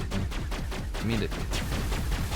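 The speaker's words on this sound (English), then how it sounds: "I hear the pulse rifle going off." Rapid repeated gunfire from a pulse rifle in the sci-fi shooter Mass Effect, dense bursts running continuously through the whole stretch with combat noise layered in.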